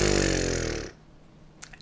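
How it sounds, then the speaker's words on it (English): Didgeridoo blown with too much air, a loud fat rasping buzz with rough low drone that sustains, then fades out and stops, leaving near silence and a brief faint click. "If I'm trying to get all the air out while still buzzing, it might sound like this."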